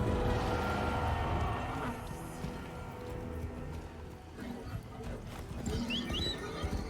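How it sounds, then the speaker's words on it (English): A metallic-sounding horse in the video game Warframe whinnies and clops over a dense, noisy game backdrop, fairly loud, with some voice in the mix. "el caballo suena chido. Se oye como metálico."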